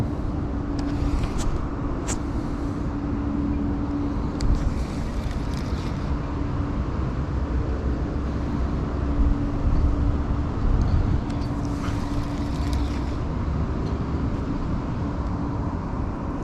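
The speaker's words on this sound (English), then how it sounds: "Now the wind's blowing like super hard" Strong wind blows hard across a winter pond, a continuous broadband roar with gusty swells and rumbling buffeting against the microphone, no voices present.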